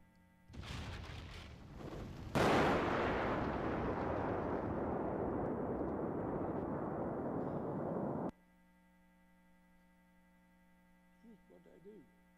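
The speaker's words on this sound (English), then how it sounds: "Here's a video of the blast effect from a test explosion." A nuclear test explosion goes off with a sudden loud blast, followed by a long, steady roaring rumble of the blast wave that stops abruptly after several seconds. Faint room noise follows.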